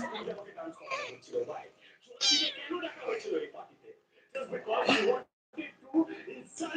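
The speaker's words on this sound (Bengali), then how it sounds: "দেখেন কি সুন্দর আমাদের বিড়ালটা" A pet cat meows repeatedly at close range, with several drawn-out calls, while someone talks over and between them.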